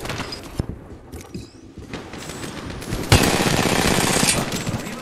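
Enemy gunfire in an Apex Legends match crackles in rapid bursts, first scattered and close, then a loud, sustained barrage in the second half.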